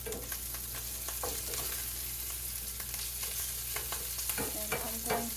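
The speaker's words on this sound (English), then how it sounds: "stir this" Food is stirred in a frying pan, sizzling close and steadily while a utensil scrapes and taps against the pan in irregular strokes toward the end.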